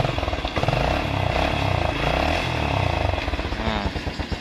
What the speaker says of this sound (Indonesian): motornya sudah langsung hidup ya, dengan satu kali engkol tanpa aki